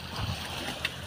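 Ocean water sloshing and splashing against a small fishing boat's hull in rough waves at sea, a steady wash with one brief sharper slap near the end.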